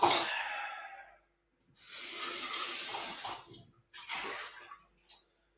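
Water runs from a tap in short bursts as things and a funnel are rinsed, three separate gushes of different lengths with quiet gaps between, fairly soft and close.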